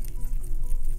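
Henna brown dye paste being stirred and mixed, giving a short, close, wet squishing patter with no talk over it.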